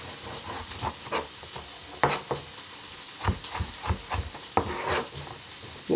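Matchsticks of root vegetable drop into onions frying in a pan, a soft sizzle punctuated by irregular clunks and scrapes as the pieces are stirred in, fairly quiet and close.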